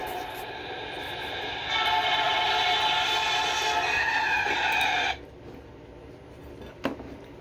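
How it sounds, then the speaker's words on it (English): A train horn blares loudly and steadily for about five seconds, then cuts off abruptly, leaving a low rumble and one brief knock. "That train horn sounded really disturbing."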